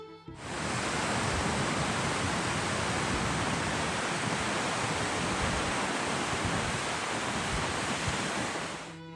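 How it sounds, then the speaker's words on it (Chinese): Godafoss, a horseshoe-shaped waterfall in northern Iceland about 30 metres wide with a 12-metre drop, roars in a dense, unbroken rush of white water, loud and steady from start to finish with no voices. "轰鸣的水声就已先占满了耳朵"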